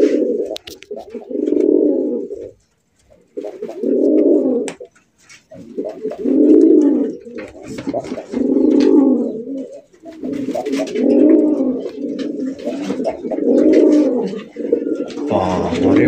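A Golla fancy pigeon coos loudly and close, repeating low rolling coos in a steady rhythm with brief gaps, one call after another.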